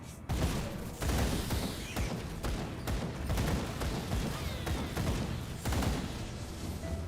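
Dense, continuous video-game gunfire from a Saltcore bolter firing Hellsbane ammo in Aether RoH, with a Gunslinger Runekeeper casting runes on enemies. Rapid loud bursts and booms roll on throughout without pause.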